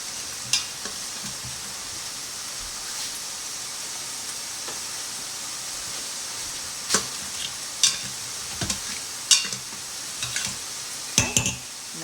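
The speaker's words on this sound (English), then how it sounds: "Scraping up those little bits." Browned bits are scraped up in a sizzling pan while cooking beef, a steady soft fry hiss punctuated by several sharp scrapes and clinks of a utensil against the pan, growing more frequent toward the end.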